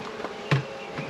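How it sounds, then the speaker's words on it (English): Honeybees buzz around an open hive while a beekeeper works the frames, a low, close, continuous drone with a soft knock partway through. "a gajillion bees"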